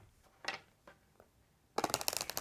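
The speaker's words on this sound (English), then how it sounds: "Let's do one more shuffle." Tarot cards are handled with a few soft, separate riffles, then a dense, crackling shuffle of the deck near the end, close up and fairly quiet with no talking.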